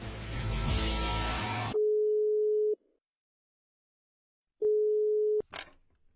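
A telephone line tone plays after a burst of music: two steady, pure beeps about a second long each, separated by a silent pause, clear and close, followed by a brief click.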